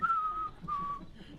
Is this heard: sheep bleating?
no